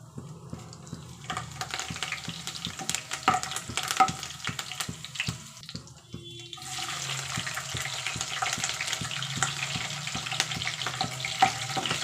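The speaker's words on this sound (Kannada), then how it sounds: "ಹಸಿರು ಮೆಣಸಿನ್ಕಾಯಿ ಮತ್ತು ಕರ್ಬೇವಿನ ಸೊಪ್ಪು ಹಾಕೊಂಡ ನಂತರ" Green chilies and curry leaves frying in hot oil make a steady crackling sizzle that drops briefly midway, then returns stronger with scattered pops and spatters.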